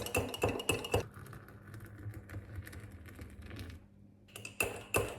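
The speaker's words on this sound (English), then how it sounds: "I like to give it a good stir just to make sure there's no clumpy bits" A spoon clinks against the inside of a cup while stirring coffee sweetened with date syrup, a run of quick close taps, then softer swirling and a second burst of clinks.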